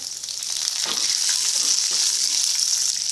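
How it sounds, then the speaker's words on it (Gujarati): Peanuts and curry leaves sizzle steadily in hot oil in a pan for poha, a loud, constant bright frying hiss with faint stirring scrapes beneath. "થોડા સિંગદાણા ફેરવી લઈએ આપણે થોડા કઢી પત્તા"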